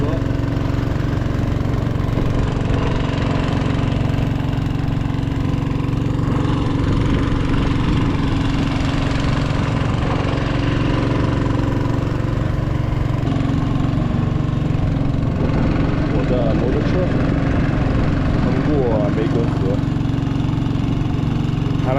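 A small boat's engine drones steadily at close range while ferrying a motorcycle across the Mekong, a loud low rumble with an uneven knocking beat that never lets up.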